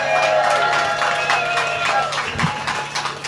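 Audience applause and cheering for comedian Don Biswas at a Jeremy Corbyn MP 40th anniversary celebration, a dense steady wash of clapping and crowd noise, loud and sustained throughout with a low hum beneath.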